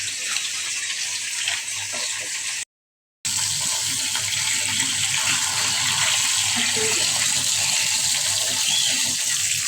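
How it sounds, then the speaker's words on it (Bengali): Tap water runs steadily into a kitchen sink while tilapia is prepared for lunch, a loud continuous gush broken once by a brief silent gap. "তো জলটা পড়ছে"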